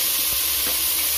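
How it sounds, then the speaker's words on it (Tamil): Vegetables and tomatoes sizzle and hiss steadily in a hot pan for vegetable biryani, with a couple of soft scraping stirs partway through. "நல்லா வதக்கி விடுவோம்."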